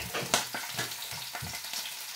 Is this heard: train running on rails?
no